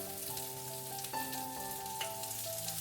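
White peas (chola matar) and ginger frying in hot oil with cumin, a steady close crackle and sizzle running throughout, with brief stirring clinks and no talk.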